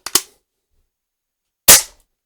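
Two sharp, loud pops from a Diana P-Five air pistol, a quick snap at the start and another about a second and a half later, with silence between.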